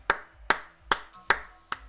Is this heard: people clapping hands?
yes